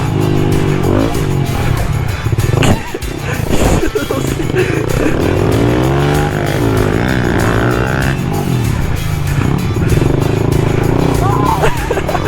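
A pit bike's engine revs loud and close as it drifts, the pitch sweeping up and down through hard acceleration, with scraping and clatter breaking in partway through.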